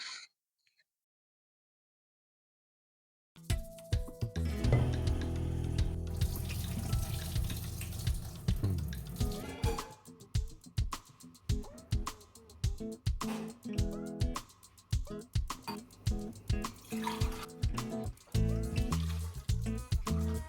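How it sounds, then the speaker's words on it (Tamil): Running tap water splashes steadily onto grains in a bowl, with rhythmic stirring and swishing as rice is rinsed up close, after a brief silence. "அரிசி கழுவி தண்ணி அளந்து ஊற்றி வச்சுட்டு"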